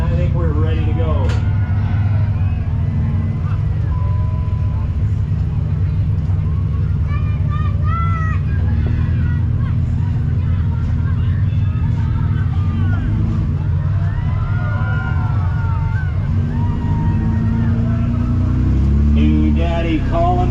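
Several 6-cylinder race cars, seven in the main event, roar continuously as they start the main race, loud engines droning steadily throughout with a crowd-noise wash and a public-address voice talking over them.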